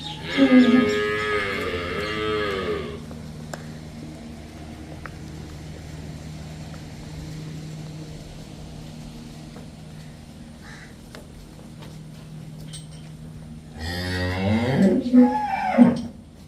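Cattle on a farm where a buffalo and a cow are up for sale moo loudly and close by, one long low call at the start and another near the end, with a quiet farmyard hum in between.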